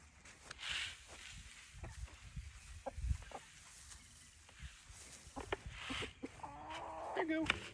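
Backyard chickens cluck softly at close range as they are fed scattered corn on a winter morning, with intermittent scratching and rustling around them.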